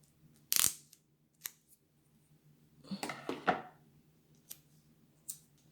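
Scissors snipping a piece of tape in half, a sharp close clack followed by a short burst of crinkly cutting and a few faint clicks in a quiet room.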